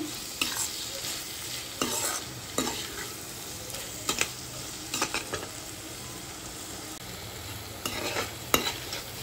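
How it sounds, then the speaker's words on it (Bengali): Spices, salt and sugar stirred together in a pan for a prawn and potato dish, a spoon scraping in irregular bursts over a steady low sizzle of oil, close and moderately loud. "স্বাদ মতো লবণ, আর কিছুটা পরিমাণে চিনি দিয়ে আমি সমস্ত কিছু মশলার সাথে ভালোভাবে মিশিয়ে নিচ্ছি।"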